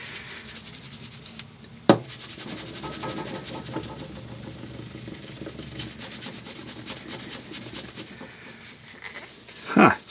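Steady scrubbing and rubbing of a Snap-on Formula 1920 steel wipe over a metal tool, a continuous close abrasive swish with a sharp knock near the start and another at the end.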